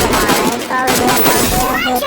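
Dense bursts of rapid gunfire in a first-person shooter video game crackle loud and close over a steady background of game sound effects, with a voice talking over it.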